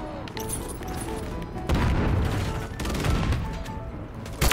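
Gunfire in the game Modern Warfare 3, a dense burst of shots and heavy booms that swells loud midway and stays busy to the end, with no clear talk.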